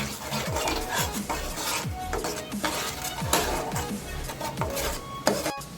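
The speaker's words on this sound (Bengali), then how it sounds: "দইটা দেওয়ার পর সব মশলার সাথে খুব ভালো মতো করে কষিয়ে নিচ্ছি।" Spice masala fried with whisked sour yogurt in a pan for Bengali rui fish kalia, a loud, steady scrape of a spoon stirring against the pan over continuous sizzling, with no talking.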